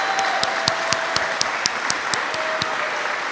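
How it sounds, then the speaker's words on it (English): A graduation audience applauds steadily, a broad wash of clapping with a few sharper individual claps standing out near the front. "Give them a round of applause."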